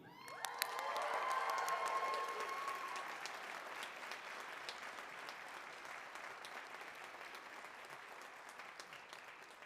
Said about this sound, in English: I hope that people will be willing to cheer here